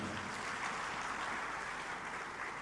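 Audience applause at the Reforma Agraria Summit in Bali, 2024, honouring officials, academics and civil society groups; a steady, fairly quiet wash of clapping from a hall crowd lasting a few seconds without voices.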